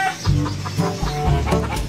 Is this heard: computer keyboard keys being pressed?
no